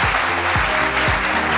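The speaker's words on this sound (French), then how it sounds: "On va l'applaudir très fort." A studio audience on a French-language talk show applauds loudly and steadily for an arriving guest, with no speech over the clapping.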